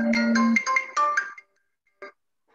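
A phone ringtone goes off during a Hindi physics class, a short bright electronic melody of several quick notes that stops abruptly, followed by a couple of faint brief blips.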